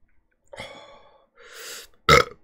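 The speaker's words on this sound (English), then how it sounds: "Wow, it's a painful burp. A burp that burns." Someone burps after eating very spicy food, giving a couple of throaty belches followed by a short, louder gasp-like burst, close and alone.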